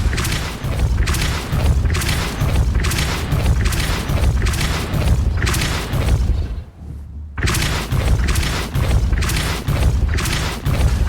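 Depulso, a force-pushing spell cast in the Hogwarts Legacy video game, set against continuous loud, booming game action: dense rumbling blasts and thumps with a brief drop near the middle, then more heavy impacts.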